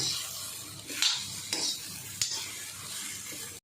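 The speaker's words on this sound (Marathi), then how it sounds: "थोडे ना डाग पडेपर्यंत भाजून घ्यायचं गवारला" Cluster beans dry-roasting in a pan for a garlicky dish, with a steady soft dry sizzle and three sharp scraping clinks of a spatula stirring against the pan, close and alone.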